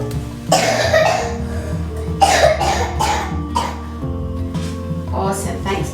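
Harsh coughs from a child break out repeatedly amid background talk and music, close by.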